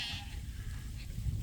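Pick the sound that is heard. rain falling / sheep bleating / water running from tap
sheep bleating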